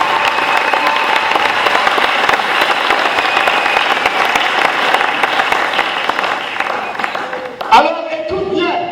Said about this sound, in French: donnons-lui vraiment une acclamation